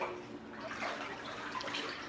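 Water runs from a tap into a filling bathtub, a steady close rushing splash with a soft bubbling texture and no voices.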